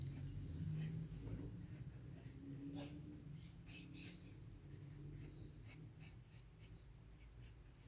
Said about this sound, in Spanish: voy a marcar algunas líneas